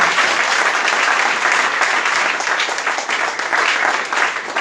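A church congregation claps and cheers in praise of the Lord, loud, dense and sustained applause filling the room without a break.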